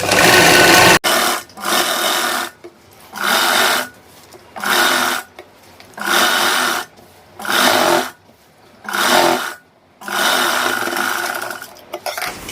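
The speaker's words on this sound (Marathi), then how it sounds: "याच्या बाजूला दुसरी शिलाई मारून घ्यायची" An electric sewing machine runs a second line of stitching along the seam of a kurti being shortened and fitted, buzzing loudly in seven or eight even bursts separated by brief pauses, close up with no talking.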